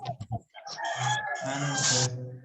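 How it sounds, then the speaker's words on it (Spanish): A rooster crows in the early afternoon, one long loud drawn-out cock-a-doodle-doo preceded by a few short clucks, fairly close and with no talk over it. "acá un gallo apenas se anda levantando a la 1 de la tarde"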